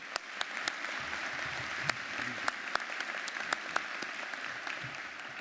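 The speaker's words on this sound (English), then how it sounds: "How about a round of applause for them?" Steady applause from a ceremony audience for college staff and administrators at a dental medicine white coat ceremony, a dense wash of many hands clapping continuously with a few sharper claps standing out, no talk over it.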